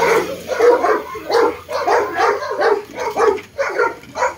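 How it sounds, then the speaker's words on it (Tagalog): Several dogs bark in repeated bursts at a house, the barks fairly close and steady throughout with no talk over them. "Nagtatahula ng mga aso."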